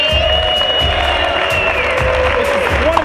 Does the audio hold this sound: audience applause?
yes